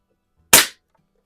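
A single sharp shot from a Barra 1866 .177 multi-pump air rifle fired at a paintball target in a garage: one close, loud crack with a quick decay, then silence.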